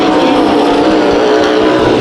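Pro Stock race cars roar past in a heat race at Santa Maria Raceway, a loud, sustained engine drone with steady high-pitched whine throughout, close and continuous with no break.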